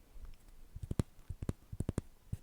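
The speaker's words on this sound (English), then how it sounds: "packaging roll, and it also makes nice sounds" A paper packaging roll is handled softly in a quiet, close setting, giving a string of light, irregular crinkly clicks and taps over faint background hiss.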